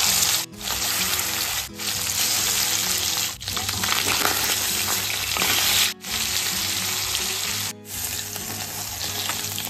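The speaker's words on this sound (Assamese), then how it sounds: "মাছকেইডোখৰ ৰঙচুৱাকৈ ভাজি ল'লোঁ" Catfish pieces fry in hot mustard oil with a loud, steady, close sizzle and crackle. The sound dips briefly every few seconds, and no one speaks.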